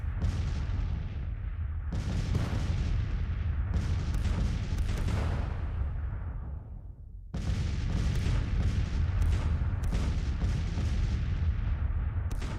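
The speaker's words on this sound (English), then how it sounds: "we're going to bombard these other brigades here" Massed Civil War cannon fire in Grand Tactician, booming artillery salvos rolling one after another into a continuous thunderous roar, loud and dense, with a brief lull before the bombardment resumes.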